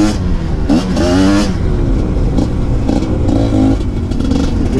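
MXF 250 TS trail motorcycle revs and accelerates on a dirt trail, loud engine rising in pitch in several surging bursts with clatter, close to the microphone.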